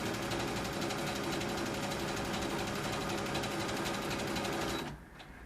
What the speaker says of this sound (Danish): Maskinen kan sy af sig selv ved et enkelt tryk